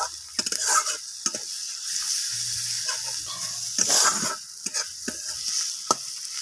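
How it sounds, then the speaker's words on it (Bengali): Spices sautéing with onion and tomato in a pan for a fish curry, a moderate sizzle and hiss broken by repeated scraping stirs and spoon taps, no talk. "এইভাবে আমি পেঁয়াজ আর টমেটোর সাথে মশলাগুলোকে কষিয়ে নিচ্ছি"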